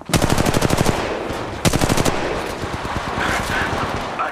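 Rapid automatic gunfire from the mobile shooter Apex Legends Mobile: two loud, dense bursts of shots, the second starting partway through, followed by fainter continuing fire and game effects.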